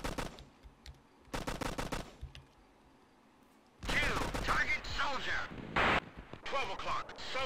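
Loud bursts of rapid cannon and gunfire from the video game Operation Flashpoint: Cold War Crisis crackle in separate volleys with quiet gaps between, and someone talks over the later bursts.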